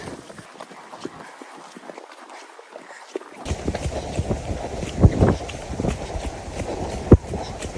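Horse hooves clip-clop on the ground of a cavalry riding arena in Hyde Park, London, starting faintly and growing clearer and louder with irregular thuds against wind and outdoor noise.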